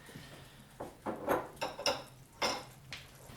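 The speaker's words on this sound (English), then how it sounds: "Okay, let's give that another stir." A spoon stirs raspberry jam in a pot, making a few soft scraping and clinking strokes against the metal, close and moderately quiet.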